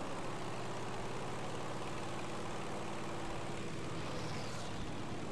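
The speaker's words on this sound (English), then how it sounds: "I'm in a plane" Propeller plane engine in the World War II video game Battlefield 5, a continuous dense roaring drone with steady throb, loud and unbroken from inside the aircraft, no voices.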